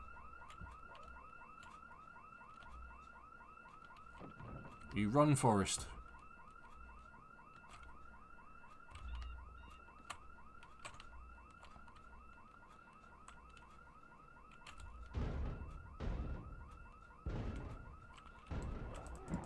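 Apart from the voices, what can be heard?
car alarm going off in the video game Project Zomboid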